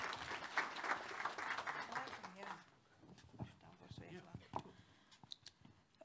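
Conference audience applauding in a hall at the opening of a Latvian education conference, dense clapping for about two and a half seconds that thins into scattered claps and faint murmuring.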